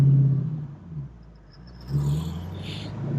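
A 1968 Ford Mustang Fastback with a manual gearbox revs its engine, a low close rumble that rises, dips and then swells again in uneven pulses with no talking.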